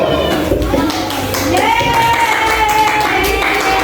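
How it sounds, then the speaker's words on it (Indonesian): Children clap together in a fourth-grade classroom, a brief burst of applause mixed with chatter and a teacher's voice. "Kita kasih aplaus dulu untuk nomor 1."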